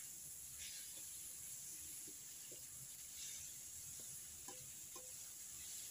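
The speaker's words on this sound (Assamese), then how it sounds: "এতিয়া মই নলটেঙাখিনি ভাজি ভাজি গলি যাবলৈ দিম" Finely chopped nol tenga frying in oil for an Assamese fish curry, a faint steady sizzle and hiss with scattered soft ticks and pops throughout.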